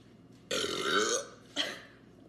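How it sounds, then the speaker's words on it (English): A loud, close belch rolls out for about a second during a beer-sponsored belching challenge, followed by a shorter second burp, with no talking over them. "The rules are the best burps."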